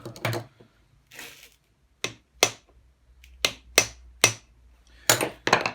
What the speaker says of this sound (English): So if I just give that a little tap.